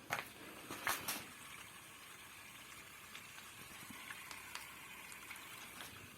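Water running and trickling from beneath the door of a leaking Bosch dishwasher, a steady low wash of flow with a few brief louder clatters near the start, heard close up with no talking.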